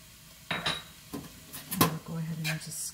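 Sesame seeds are stirred into slaw in a skillet: a few clinking scrapes of a utensil against the pan with a faint sizzle underneath, close and fairly quiet.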